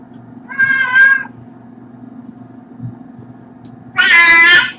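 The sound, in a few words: barn kitten crying out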